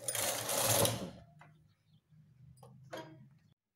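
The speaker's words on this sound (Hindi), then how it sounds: "कैरेज को फिर दो बार चलाएंगे" A knitting machine carriage runs across the needle bed while making a designer sweater border, giving a loud rattling sweep followed by a quieter second pass with a low hum and brief clicks.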